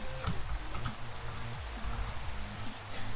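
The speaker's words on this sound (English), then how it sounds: "Oh, great! It's raining." Steady, soft rain patters on surfaces in a video game world, a continuous faint hiss with scattered drop ticks and no voices.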